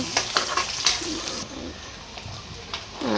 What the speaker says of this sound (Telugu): యాలకు, లవంగాలు, చెక్క వేసేసాను ఆయిల్లో. తర్వాత ఉల్లిగడ్డ కొంచెం ఫ్రై అయినాక, పచ్చిమిర్చి రెండు ఫ్రై అయిన తర్వాత